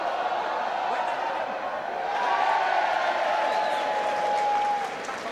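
A stadium crowd at a Warrington versus Toronto rugby league Challenge Cup match roars in a steady, distant wash that swells partway through, with a whistle-like tone and a commentator's voice over it.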